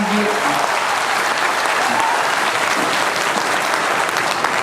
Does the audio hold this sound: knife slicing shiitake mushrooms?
no